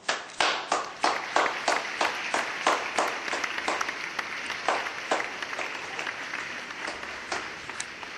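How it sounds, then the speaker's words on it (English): Studio audience claps for talk show guest Henry Clerval, opening with a sharp burst and then settling into a thinner, rhythmic patter of fewer hands that fades gradually over eight seconds. "let's all give him a big round of applause"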